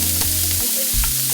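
Onions sizzle in olive oil in a hot skillet, a steady close crackling hiss that fills the short moment with no talking.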